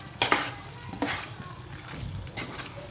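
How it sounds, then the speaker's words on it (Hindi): Masala chicken stirred and fried in a pan, with a few distinct scraping strokes of a spoon over a continuous low sizzle. "थोड़ा और हम फ्राई कर लेंगे चिकन को अच्छे से।"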